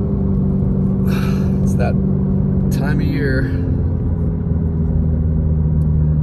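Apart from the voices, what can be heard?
car driving around town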